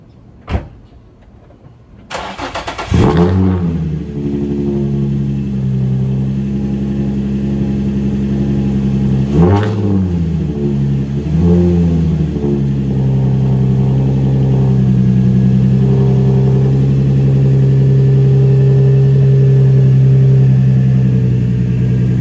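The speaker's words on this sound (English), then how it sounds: "it's time to start on the engine and pull out of here" A car engine cranks and catches after a short quiet start, then idles nearby with a brief rev partway through before settling into a steady running hum as the car prepares to pull away.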